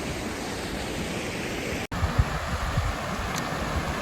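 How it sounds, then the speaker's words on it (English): Steady broadband rush of an icy creek in Rustlers Gulch, Colorado, flowing close by as it is crossed on foot, with a few soft splashes and thuds from footsteps partway through. "We are on our way down, crossing one more ice water creek"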